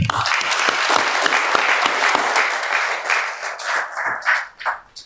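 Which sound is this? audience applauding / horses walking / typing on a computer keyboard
audience applauding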